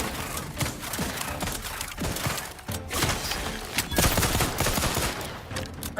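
Rapid automatic gunfire from a fast-firing weapon in the video game Outer Worlds 2, a dense continuous burst of shots with thumps and impacts rattling on for several seconds.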